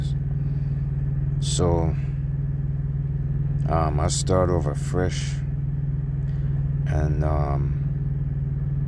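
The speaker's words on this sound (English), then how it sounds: "idle the engine for a long time and get rid of contaminants" Semi truck engine idling with a steady, even low drone that runs through the whole stretch, while someone talks in short bursts over it.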